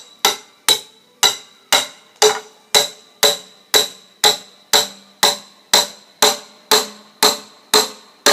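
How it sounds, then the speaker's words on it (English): A hammer strikes metal in a steady, evenly spaced rhythm, about sixteen sharp ringing blows, close and loud with no talking. "so I can actually use the hammer like it's intended"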